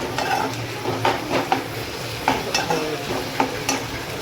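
Marinated chicken fries in a pan with a constant sizzle while a spoon scrapes and stirs it in repeated short strokes as it browns, and no one speaks.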